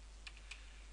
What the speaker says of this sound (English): Now all you need to do now is type this command in